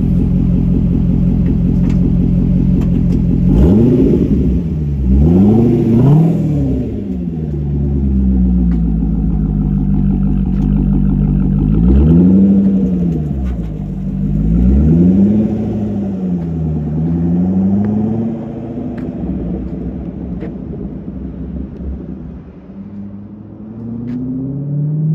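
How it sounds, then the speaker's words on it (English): A 2013 Corvette C6 Grand Sport fitted with a Hooker Blackheart X-pipe and mufflers idles with a deep, loud rumble, then revs up and falls back repeatedly in several rising and falling sweeps over about twenty seconds. "2013 Grand Sport Hooker Blackheart exhaust"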